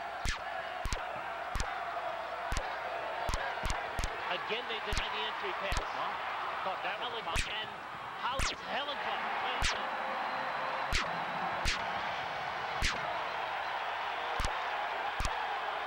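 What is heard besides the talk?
home crowd cheering loudly at a basketball game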